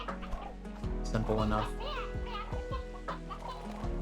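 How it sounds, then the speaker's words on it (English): Sea hens clucking in a coop in the Slime Rancher 2 video game, a series of short, bright clucks and squawks close by, with a brief spoken remark mixed in. "And then I just have the sea hen coop here"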